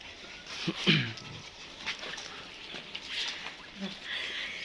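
Several dogs on a farm pant and give a couple of short whimpers close by, with a brief soft bark among light shuffling; people talk nearby at times.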